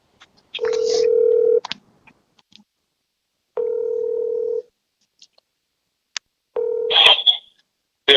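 A call is placed from a mobile phone: a ringback tone sounds three times as evenly spaced, steady beeps with short silences between, and no voices.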